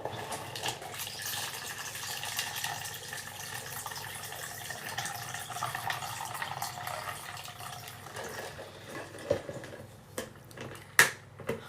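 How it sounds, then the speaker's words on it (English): Tea poured into a cup: a steady, fairly quiet liquid stream for several seconds that thins out, followed by a few light clinks and taps near the end. "Pour my tea."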